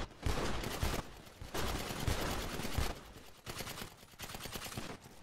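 Video game gunfire crackles in repeated rapid bursts, with loud automatic volleys separated by short gaps and tapering toward the end.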